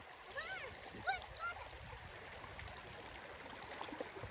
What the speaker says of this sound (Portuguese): Que som gostoso o som da água,